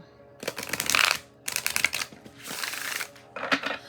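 Tarot cards are shuffled in several quick riffling bursts with brief pauses between, close up and crisp.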